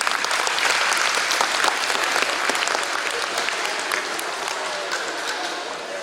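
Audience at a school show applauding loudly and steadily, a dense wash of clapping hands that holds for the whole stretch and fades only slightly toward the end.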